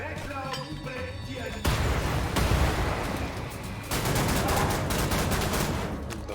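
Heavy, continuous shotgun fire in Wolfenstein: The New Order, with dual-wielded shotguns blasting in dense, overlapping bursts and crashing impacts, loud and close, with a voice partly mixed underneath.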